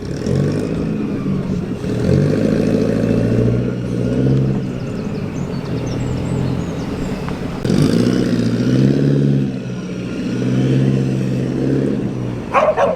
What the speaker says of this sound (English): Supercharged Wolseley, how cool is that?